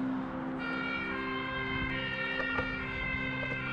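Fire engine siren wailing on a passing fire truck, a continuous high tonal siren with steady harmonics heard at moderate distance over faint background noise, with no talk.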